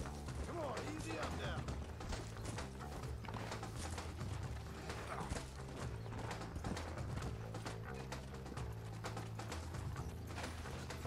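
Horse hooves clip-clop steadily in Red Dead Redemption on PS3, a continuous rhythmic trot under dense game music and ambient effects, with a player talking over it.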